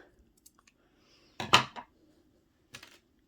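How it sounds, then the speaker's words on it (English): Scissors snip through knitting yarn at close range: a crisp cluster of quick cuts, then one shorter snip a moment later, with quiet surroundings in between. "And we're gonna cut this off."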